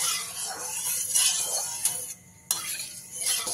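Hot, smoking oil being spread around a kadai, producing close scraping and swishing with faint metallic clinks and a brief pause before the sizzle resumes.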